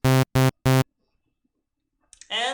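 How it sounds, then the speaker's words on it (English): A sawtooth wave from the Citrus synthesizer sounds as three short, loud, buzzy bursts in an even rhythm, then near silence, and a voice begins speaking at the end. "with Citrus, I've created a sawtooth."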